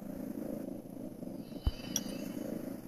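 Cat purring in the mobile survival game Undawn, a steady soft low purr running under the whole stretch with a couple of faint clicks near the end, no talking over it.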